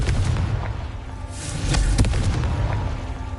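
Confringo fire spell blasting in Hogwarts Legacy, a loud rumbling boom with a crackling burst near the middle, sustained low roar throughout.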